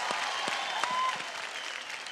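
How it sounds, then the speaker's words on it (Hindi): Brief burst of studio audience applause on the Indian Idol TV singing show, a steady crackle of many hands clapping at moderate volume, with no talking over it. "एक बार जोरदार तालियां"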